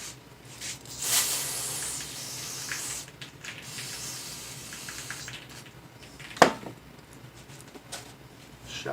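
Aerosol brake cleaner sprayed from a can onto a Ford Expedition suspension part in a home garage, a hissing burst near the start, then scattered quieter sprays and clatter with one sharp knock near the end.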